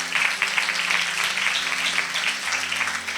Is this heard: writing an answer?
no